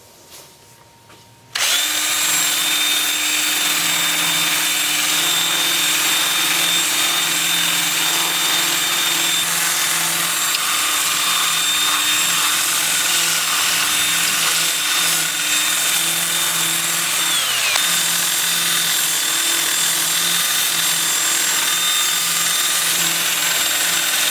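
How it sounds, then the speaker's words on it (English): A loud, steady high-pitched whir of a spinning wood lathe with a 2-inch sanding disc grinding continuously on turned wooden parts, starting abruptly after a quiet moment. "switch to my 2-inch sanding disc and sand all of the turned parts"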